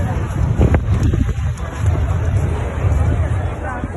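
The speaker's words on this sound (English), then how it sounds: "it's getting windy" Gusty wind buffets the microphone in a continuous low rumble, with a murmur of a distant protest march crowd underneath, in Glasgow.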